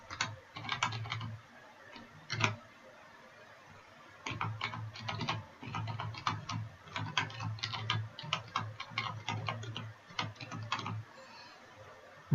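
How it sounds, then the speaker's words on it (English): Rapid bursts of typing on a computer keyboard, close and clear, with clustered key clicks broken by brief pauses and a steady faint hum underneath. "I'm just going to type everything back in."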